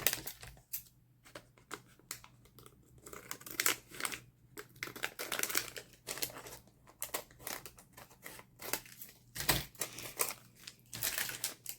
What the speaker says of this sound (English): So I'm just going to cut this